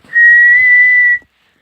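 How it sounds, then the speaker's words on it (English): A steam tank engine's whistle sounds once, a steady, clear high tone held for about a second, loud and close, with no voices over it. "whistled Thomas, and he puffed away with the heavy mail cars"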